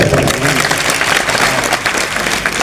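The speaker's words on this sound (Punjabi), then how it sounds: "ਇੱਕ ਵਾਰੀ ਸਾਰੇ ਸੇਵਾਦਾਰਾਂ ਵਾਸਤੇ ਤਾੜੀ ਮਾਰੋ" A crowd at a karate championship event claps in sustained, dense applause honoring the volunteers, loud and even from start to finish with some voices mixed in.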